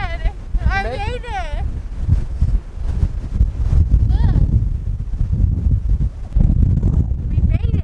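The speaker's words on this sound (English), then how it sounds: "It's so windy." Strong wind buffets the microphone in a steady low roar while people talk and shout over it.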